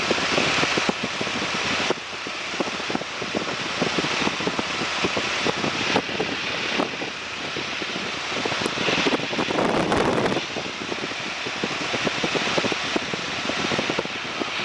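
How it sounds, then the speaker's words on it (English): A light airplane's propeller engine roars loudly and steadily in flight as it accelerates, with wind rushing across the microphone. "Okay, so we're airborne now. Just allow the airplane to accelerate."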